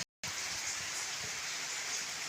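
Unseasonal summer rain pours down steadily in a broad, even hiss, loud and continuous after a brief silent gap at the start, with no voices.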